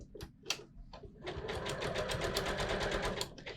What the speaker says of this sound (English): So I want to stitch completely on the elastic itself.